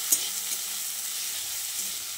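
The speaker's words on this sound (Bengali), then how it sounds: "এবার আলুটা দিয়ে আরও কিছুক্ষণ পেঁয়াজের সঙ্গে ভালোভাবে কষিয়ে নিতে হবে।" Steady sizzling of potatoes and onions frying in a pan, with a couple of light scraping stirs, close up and without talk.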